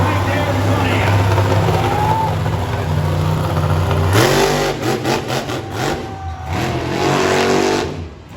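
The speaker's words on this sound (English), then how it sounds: "That is all Ford power right there in front of you." A Ford-powered monster truck engine on a nitro tour show in Costa Mesa, California roars loudly up close, holding a deep throaty rumble before surging through a series of sharp revs that rise and fall.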